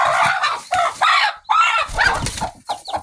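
A brooding hen sitting on her eggs clucks and murmurs in short, close bursts with brief pauses between them, while a person speaks nearby off and on.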